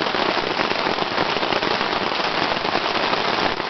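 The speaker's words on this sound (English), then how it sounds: "kind of sprinkling right now" Light rain sprinkling at a camp in Cambridge Narrows, heard as a dense, even patter on a nearby surface, steady and fairly loud throughout.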